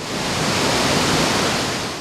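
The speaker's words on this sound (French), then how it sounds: "La cascade qui se situe derrière moi, sa hauteur est de 80 mètres." An 80-metre waterfall in a karst system roars in a dense, steady wash of falling water, loud and continuous throughout.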